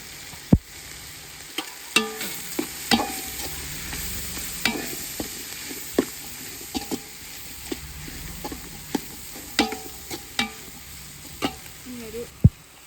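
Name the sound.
egg being stir-fried into fried rice in a pan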